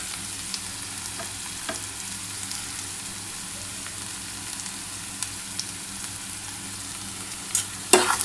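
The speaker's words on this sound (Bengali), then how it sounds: "এবার টমেটোটার সাথে ভালো করে একটু ভাজা ভাজা হলে আমি কিন্তু আলুটা দিয়ে দেবো" Chopped tomato fries in hot oil with onion, garlic and ginger for a Bengali egg chop, giving a soft, continuous sizzle with a few light stirring taps and a clatter near the end.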